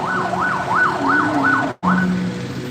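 Village ambulance siren from Lampendaya sounding at a street protest in Lombok: a loud, close wailing siren rising and falling in steady repeated cycles, broken by a brief dropout.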